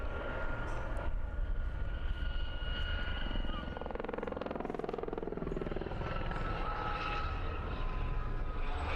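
Display aircraft flying at an air show, a steady broad engine roar held throughout at moderate distance, rising briefly as it passes, with a commentator talking over it.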